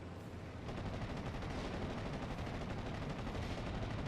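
Heavy airstrike explosions and rolling gunfire in a Close Combat World War II game mod, a dense continuous barrage of blasts and crackling fire that swells loudly after a brief quieter start and holds steady.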